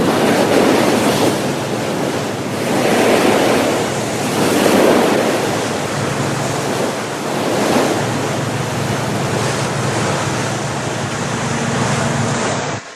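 Sea waves surge and crash against rocks at Doubtful Sound, New Zealand, in loud rolling swells that rise and fall every few seconds, with wind rushing over the water.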